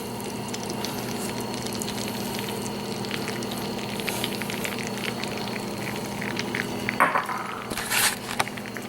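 Eggs for licorice eggs frying in a pan, a steady close sizzle and crackle under a faint hum, with a brief clatter and louder bursts of spitting near the end.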